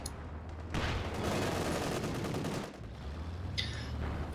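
An artillery barrage rains down on a base in a real-time strategy game, a dense burst of rapid explosive fire that swells for a couple of seconds and then fades into lighter, scattered shots.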